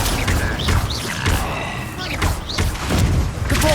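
Spell combat in Hogwarts Legacy, with the Incendio fire spell and other casts bursting in dense repeated whooshes and thuds, loud and busy throughout, with shouted incantations among them.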